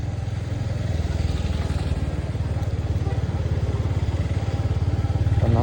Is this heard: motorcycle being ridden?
yes